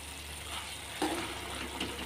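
Pumpkin halwa being stirred in a pan, a soft continuous low sizzle with one brief scrape of a spoon against the pan, quiet and close.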